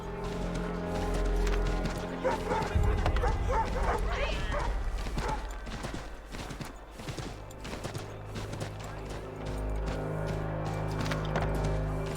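Horse hooves clip-clopping in Assassin's Creed III Remastered, a string of uneven hoof knocks with dogs barking and yipping nearby, layered over game ambience with a voice briefly talking.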